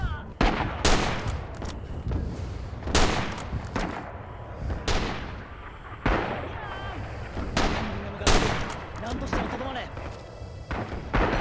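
Rapid volleys of gunfire from the WWII shooter Rising Storm on the Kwajalein map, including Axis Type 99 rifle fire: loud, sharp bangs every one to two seconds over a constant din of battle, with a voice talking underneath.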